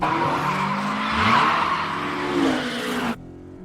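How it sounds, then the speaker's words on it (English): A car drifting on a mountain road in an animated racing scene, with a sustained tire squeal and engine drone rising and sliding in pitch, loud and close, cutting off abruptly near the end. "I just gotta skid the back wheels early and let all 4 of them drift."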